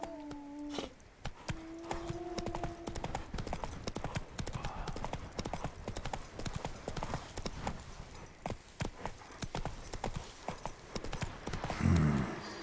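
Roach, the horse in the video game Witcher 3, gallops in a steady, loud clip-clop of hooves that runs throughout, with a brief whinny near the start and no talking.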